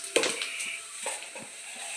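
Cumin seeds dropped into hot oil in a pan for tempering, a soft crackling sizzle with a sharp pop at the start and a few light stirring scrapes, close and quiet, no talk.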